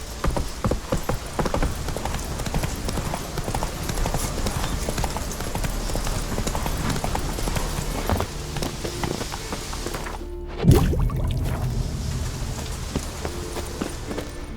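Roach the horse gallops in The Witcher 3, hooves clip-clopping in a fast, steady rhythm close by over a constant rain-like wash, with a brief pause and a single thump near the end.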